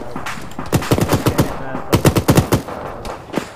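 Arma 3 machine gun fire, two loud close bursts of rapid rattling shots, each about a second long, separated by a brief pause and followed by a couple of scattered single shots.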